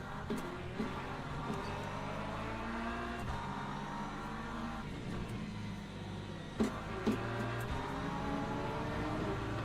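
An LMP2 prototype race car engine in the Le Mans Ultimate racing game at Spa drones steadily at high revs for the whole stretch, with small pitch shifts and brief gear-change dips, continuous and close.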